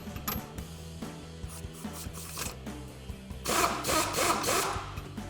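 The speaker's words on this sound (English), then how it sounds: "Now we'll tighten down our sway bar link with our 21mm socket." Ratchet and socket work tightening a sway bar link with a 21mm socket during a Dodge Charger shock and strut install, with clicking metallic strokes, light clanks and a louder grinding burst near the end.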